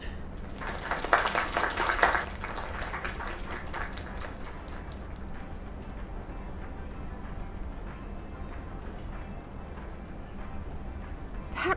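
Audience applause at a live performance, a burst of clapping and cheering in the first couple of seconds that thins into scattered claps over a steady crowd murmur.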